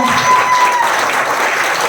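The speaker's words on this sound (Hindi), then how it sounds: "फिर से एक बार जोरदार तालियों के साथ" Dense audience clapping at a business training seminar, steady and fairly loud for a short burst, with a faint tonal whistle or voice briefly above it.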